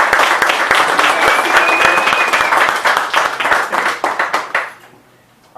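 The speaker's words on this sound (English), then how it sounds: "Please give Chris a round of applause." An audience applauds a panelist, loud close clapping from many hands that thins into a few scattered claps before stopping abruptly.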